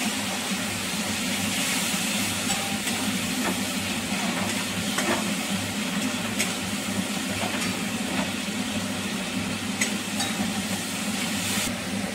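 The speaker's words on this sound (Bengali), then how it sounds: "সর্ষে বাটা দিয়ে তরকারিটাকে ভালো করে নেড়ে চেড়ে কষিয়ে" A vegetable curry of drumstick and potato with tomato is stirred and sautéed in mustard paste. It gives a continuous close sizzle with soft scraping and occasional sharp ticks from the pan, and no voices.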